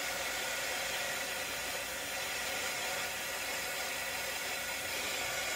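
A hair dryer blows steadily and loudly on fresh stencil paint, a continuous broadband whoosh holding the same level throughout with no voices.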